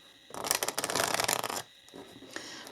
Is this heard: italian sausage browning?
no